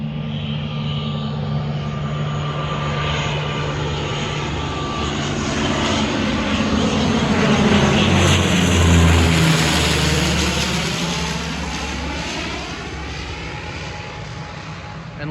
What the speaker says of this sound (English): here's one of the airplanes coming in.